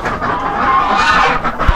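Chickens cluck in a hen house as they dig and dust-bathe in deep bedding, with a steady busy murmur of nearby clucking and rustling and a faint thump near the end.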